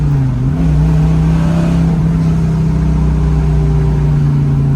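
A 1979 Chevrolet Camaro Z28 with a 400-horsepower Martel-built engine and four-speed manual pulls hard, its loud steady engine drone rising in pitch after an early shift and holding, heard from inside the car without talk.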